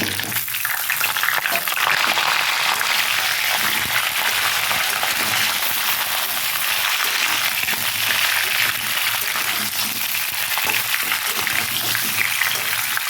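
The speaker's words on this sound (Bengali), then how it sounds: "একটুখানি আমটা ভালো করে ভেজে নিতে হবে" Raw mango pieces frying with spices in a pan for morobba, a dense continuous hiss and crackle of sizzling oil, steady and close throughout.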